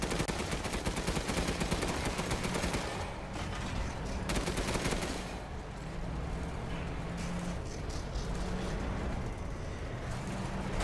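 Rapid, dense bursts of gunfire-like blasts rattle continuously as a cannon fires over and over in Resident Evil Village, loud and crackling with barely a pause.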